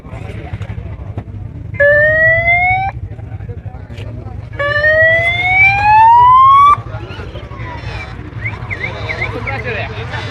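Siren of a traffic police patrol vehicle, tested in short bursts: a brief rising wail, a pause, then a longer sweeping wail, loud and close over a steady idling engine, with people talking around it.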